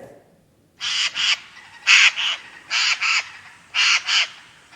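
A Eurasian jay gives a harsh, raspy call repeated in paired bursts, four double squawks at a steady rhythm, fairly close and alone against quiet background.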